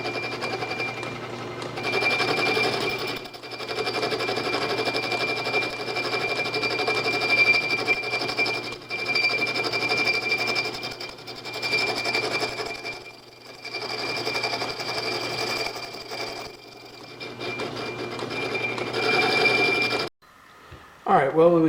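Metal lathe cutting down a regular Allen flathead steel bolt into a shoulder bolt, a steady whirring, scraping machining tone running loud and continuous for about twenty seconds before cutting off abruptly.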